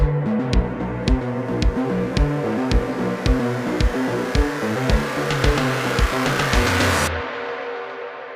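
A car driving, as a sound effect in an audio drama, with a steady engine drone under regular thumping pulses. It cuts off abruptly near the end.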